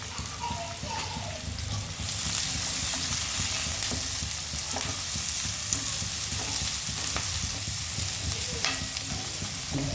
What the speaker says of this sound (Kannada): ಈಗ ಎಣ್ಣೆ ಬಿಸಿಯಾಗಿದೆ, ಆನಿಯನ್ ಫ್ರೈ ಮಾಡೋಕ್ಕೆ ಹಾಕ್ತಾಯಿದ್ದೀನಿ.